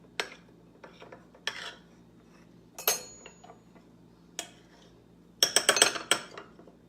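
A metal spoon scrapes and clinks against a mug while a keto peanut butter mug cake is smoothed. Sharp scattered taps come close up, ending in a quick flurry of clinks.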